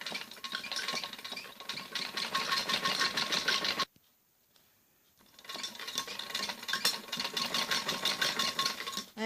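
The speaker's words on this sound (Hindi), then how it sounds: "इससे हम मशीन को पंजे को थोड़ा उठा के और पाइपिंग को नीचे से ऐसे दबा के तब सिलाई लगानी होती है।" A sewing machine stitches piping along a kameez neckline, running in fast continuous rattling bursts, close and fairly quiet, with one short pause midway.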